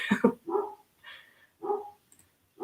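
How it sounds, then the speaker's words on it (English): A dog barks several times nearby in short, separate bursts with brief pauses, no talking. "My dog is going to go crazy because UPS is here."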